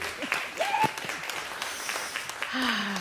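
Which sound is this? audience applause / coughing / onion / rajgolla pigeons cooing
audience applause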